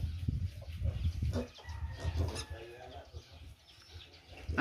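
Chickens cluck near a small farmyard that also keeps piglets, with scattered calls over a low background rumble and a louder burst at the very end.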